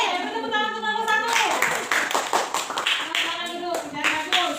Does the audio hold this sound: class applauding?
yes